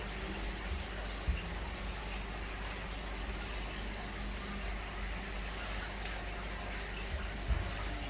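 Water falls through a koi pond filter shower in a soft, constant splashing wash, heard faintly at a distance with a couple of brief knocks.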